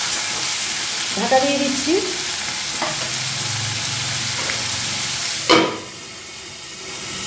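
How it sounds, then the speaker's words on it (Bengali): Three large potatoes fry in a pan with a steady, close sizzle, joined by a few scrapes of stirring and a sharp lid clatter near the end that leaves a muffled hiss; a voice speaks briefly. "তিনটে বড় সাইজের আলু দিয়ে এবার ভাজবো।"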